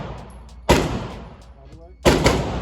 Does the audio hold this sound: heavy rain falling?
no